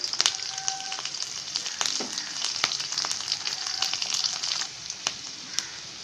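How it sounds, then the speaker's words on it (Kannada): Curry leaves hitting hot oil in a pan while cooking a mixed sprouted-legume palya, giving a bright steady sizzle with sharp crackles and pops scattered across it and no talking. "ಈಗ ಕರಿಬೇವು ಹಾಕ್ತಾಯಿದ್ದೀನಿ."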